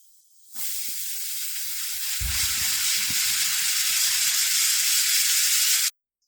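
A pressure cooker cooking vegetable biryani releases a steady, loud hiss of escaping steam that rushes on for several seconds, with faint low rumbling and clatter beneath it, then cuts off abruptly.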